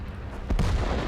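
Artillery fire in the World of Tanks video game lands as a single heavy boom halfway through, loud and close, over a dense low rumble of battle noise.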